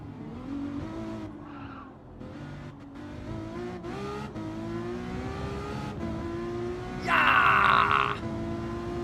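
A Ferrari race car in a racing sim game: the engine revs rise and fall through gear changes, with a harsh tire screech flaring near the end, and no one talking.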